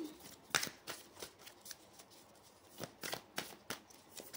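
Playing cards are handled and shuffled by hand during a card reading, with soft riffles and a sharp burst near the start followed by quieter intermittent flicks and taps, fairly close and low in level.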